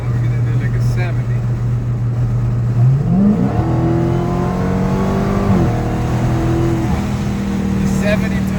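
A Dodge Challenger Hellcat on drag radials accelerates hard from 70 mph, its loud engine note climbing steeply through the gears with a brief dip at each shift, all heard from inside the car.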